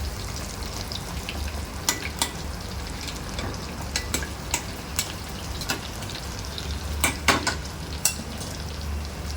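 Chickpeas fry in oil on a high gas flame with a steady, moderately loud sizzle. Sharp crackles and pops break through it now and then, and no voice is heard.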